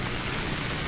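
Heavy rainfall beats on a roadway near a bus stand, a constant broadband wash of close, loud drops that stays even throughout with no talk.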